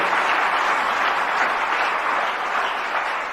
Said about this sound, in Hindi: जरा जोरदार तालियां जरूर बजाइए।